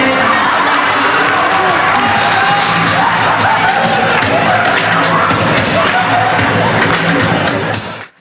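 A school crowd cheers, whoops and shouts loudly and continuously during a dance-off performance, a dense roar of young voices that cuts off abruptly at the end.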